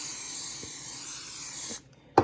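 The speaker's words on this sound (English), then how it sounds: "I'm going to spray the bottom to coat it." Cooking oil spray hisses steadily onto the bottom of a loaf pan for nearly two seconds, then cuts off, leaving a brief quiet before a single short knock.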